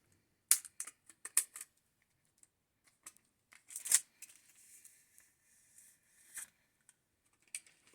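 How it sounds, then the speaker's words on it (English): A Nokia 7.2 in Cyan Green slid out of its plastic sleeve during unboxing: close, quiet crinkles and sharp plastic rustles in short bursts, with near silence between them. "let's just take it out of this plastic sleeve"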